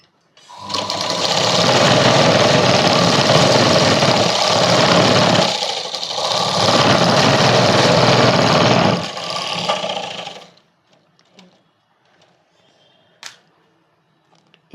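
A sewing machine runs steadily as it stitches a kids' night dress, loud and close, with two brief pauses before it stops; a few faint clicks follow in near silence.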